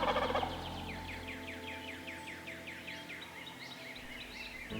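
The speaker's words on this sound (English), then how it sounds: "We had a gobbler about 40 yards in front of us, strutting, gobbling on the limb" A wild turkey gobbler roosted on a tree limb about 40 yards away gobbles, a rapid rattling series of calls that stays moderately distant and fairly faint, with no talk.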